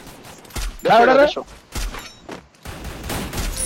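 Gunfire in the Free Fire battle game, several separate loud shots and bursts in quick succession, with a voice talking between them.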